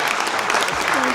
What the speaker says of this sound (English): Big round of applause to Betty.